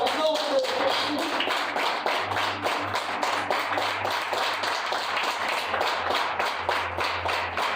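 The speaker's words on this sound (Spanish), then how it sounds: "¿Cuántos dan un aplauso fuerte al Señor?" A church congregation claps together in worship: dense, steady applause that fills the room for the whole stretch, with a low hum running underneath.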